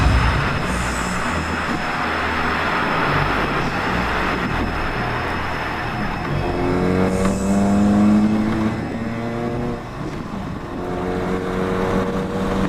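Lowered 1990s street racing car driving, a loud continuous engine drone with a rising tonal whine partway through, heard close from inside or beside the car.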